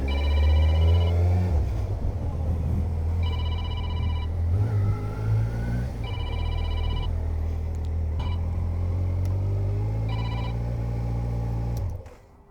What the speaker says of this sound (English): I have a phone call from Monimoto.